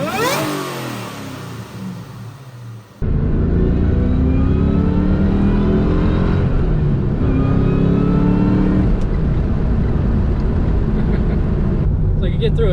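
Supercharged Ford Mustang Cobra engine revving hard and steadily after a quieter opening, a loud, continuous drone rising and falling in pitch through repeated pulls, close up.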